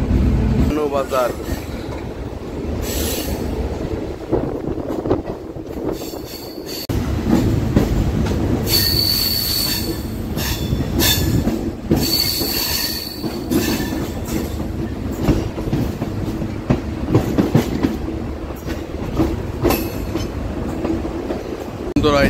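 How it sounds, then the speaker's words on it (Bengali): A Tripura local demo special train arrives at Sabroom station, its wheels squealing loudly and persistently over heavy rumbling and clattering rail noise, close and continuous throughout, with voices faintly in the background. "আমাদের ট্রেনটা ফাইনালি সাবরুম স্টেশনে প্ল্যাটফর্ম নাম্বার 1-এ এসে দাঁড়িয়েছে।"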